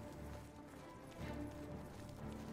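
Horse hooves clip-clop steadily in a quick rhythm over a low ambient bed in the video game Oblivion, with a slight swell partway through.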